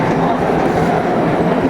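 A long train rolls through Magdeburg railway station in Germany, a loud, close, continuous rumble with rhythmic wheel clatter filling the whole moment.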